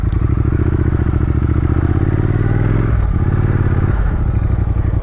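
A Triumph Thruxton R motorcycle engine starts and settles into a loud, close, lumpy idle with steady rapid firing pulses, then dips briefly as the throttle changes.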